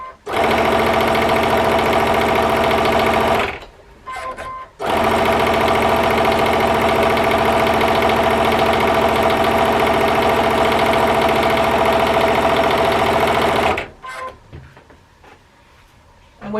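A sewing machine runs steadily while stitching quilt fabric for a scrappy woven quilt, a loud continuous whir that stops briefly, restarts for about nine seconds, then cuts off near the end.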